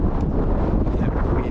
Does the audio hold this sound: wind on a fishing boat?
yes